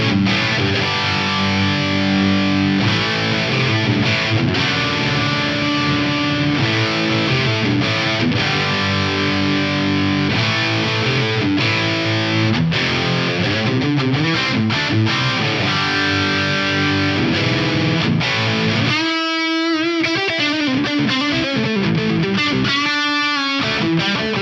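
Distorted electric guitar through a Lexicon PCM81 reverb with low cut engaged, playing sustained chords and notes with a hazy reverb tail, loud and continuous, with brief pauses near the end.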